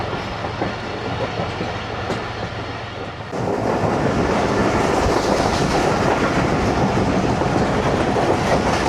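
Ghouri Express 113UP passenger train running between Faisalabad and Lahore on an evening ride, a steady loud rumble and clatter of wheels on rails that swells sharply partway through and continues close and unbroken.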